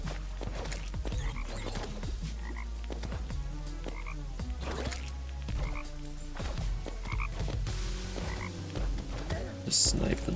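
Nuclear toads croak in the Terraria Calamity mod video game, a dense, continuous chorus of loud, rhythmic croaks layered over game sound effects.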